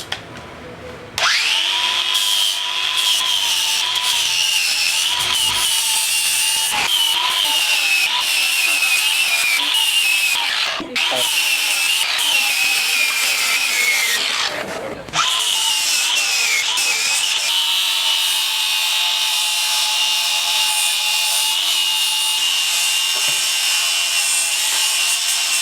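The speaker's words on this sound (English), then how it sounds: "I'm just going to grind away this grind rail so I can put this grind rail on" A power tool grinding off a metal grind rail from a scooter deck, running loud and continuous for most of the stretch with a few brief stops and restarts.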